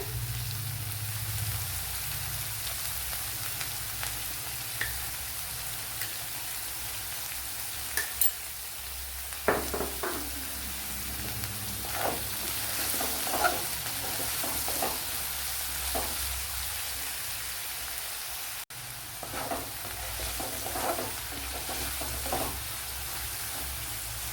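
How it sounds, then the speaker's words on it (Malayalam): Onions sautéing in a pan for Bengali-style egg podi mas, a steady close sizzle and frying hiss throughout with occasional scrape and stir clicks from a utensil, no talking. "അപ്പോൾ ഇവിടെ സവാളയൊക്കെ നല്ലതുപോലെ വഴണ്ട് വന്നിട്ടുണ്ട്"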